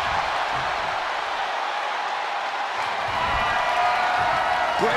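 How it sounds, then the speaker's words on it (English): A capacity arena crowd at a televised WWE Monday Night Raw wrestling event roars and cheers in a steady, loud wash of noise, with scattered whoops and applause throughout. "you hear this capacity crowd following you on that journey"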